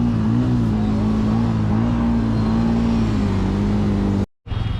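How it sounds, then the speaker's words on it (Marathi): A motorbike engine on a rainy Nanded trip in Pune is revved steadily to keep it from stalling, a loud close drone that holds fairly even, cuts out briefly near the end and then resumes. "रेस दे, बंद पडेल गाडी"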